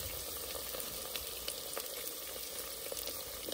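Onions, curry leaves and green chili sauté in a clay pot for a dried-fish curry, giving a faint, steady crackling sizzle that stays even throughout with no talking.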